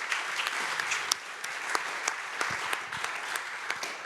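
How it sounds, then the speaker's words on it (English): An audience at an arts symposium applauds with dense, steady clapping that holds even throughout, a sustained crowd ovation with no speech over it. "Applause for Nikos, of course, yes."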